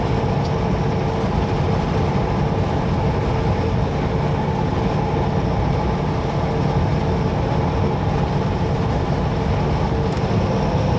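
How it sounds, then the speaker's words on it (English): Strong wind roars steadily around a parked truck, a dense, loud, unbroken rush of noise with no voices. "It's incredibly windy. So loud wind."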